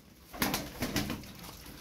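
Tumbler pigeons coo in a loft, with soft, low murmuring calls and some wing rustles and scuffling nearby, fairly faint and without talk.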